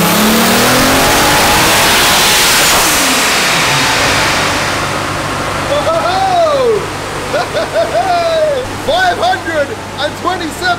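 A car's engine revs hard to 7,300 RPM on a dyno with low boost, a loud sustained roar up front that then breaks into rising and falling pulls with a whine, while people talk over it.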